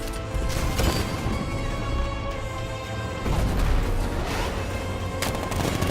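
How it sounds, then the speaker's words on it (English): A tank cannon fires in the Batman: Arkham Knight video game, with loud booming bursts over a dense, continuous layer of game noise and no talk. ".60mm cannon operational."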